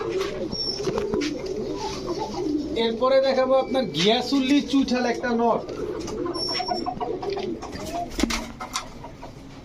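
Pigeons coo in repeated throaty phrases nearby while someone talks over them, with other birds chirping faintly in the background.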